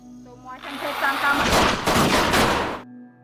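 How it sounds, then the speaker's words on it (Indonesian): Police gunfire aimed at a man in a film, heard as a loud burst of rapid shots and booming impacts that fades after a few seconds. "para polisi itu terpaksa harus menembak Bupanor"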